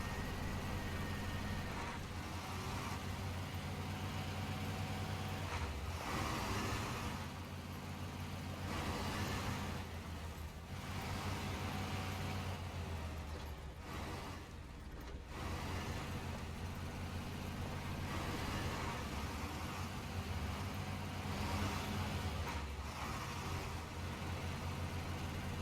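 Heavy truck engine in SnowRunner with a slow 8-speed transmission, a steady low droning rumble that dips and surges with long drawn-out gear changes, continuous and close throughout.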